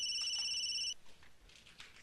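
A telephone rings with a steady electronic trill for about a second, then cuts off, followed by faint room noise.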